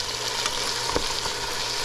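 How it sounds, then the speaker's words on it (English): Vegetables fry in a pot for corn stew with okra and pig tail, giving a steady close sizzle with faint stirring. "So once this fries up a little, starts to get soft"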